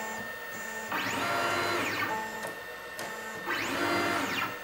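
OpenPnP pick-and-place machine advancing to the next feeder: two rising-and-falling motor whines, each about a second long, with a short click between them, over a steady mechanical hum and no voices.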